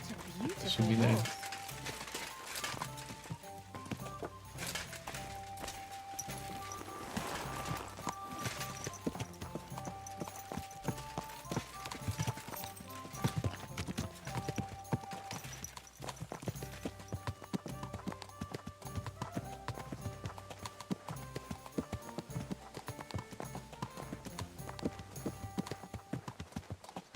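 Horse hooves clip-clop at a steady, close walking rhythm in the video game Kingdom Come Deliverance 2, continuing for the whole stretch over a busy game soundtrack.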